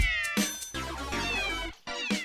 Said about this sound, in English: The only bit of footage I ever got of my cats that was of any use was of them kind of meowing at me.